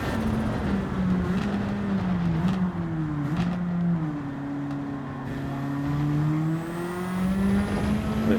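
A Porsche race car engine in Gran Turismo 7 drones loud and steady, its pitch rising and falling with throttle changes, and the sound of other cars runs beneath it.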